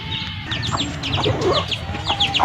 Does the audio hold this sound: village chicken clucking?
yes